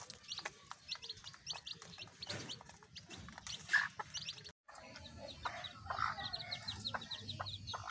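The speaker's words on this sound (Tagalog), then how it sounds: "Yan mga idol, 4 days old na mga sisiw nating labuyo." Four-day-old pure labuyo jungle fowl chicks peep constantly in a quiet brood, many soft, high, overlapping chirps close by, with a brief pause midway.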